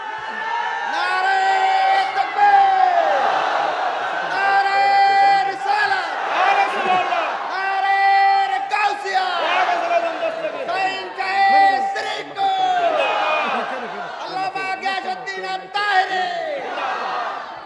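A large crowd at a religious sermon chants a slogan in unison, the loud massed voices rising and falling in repeated phrases.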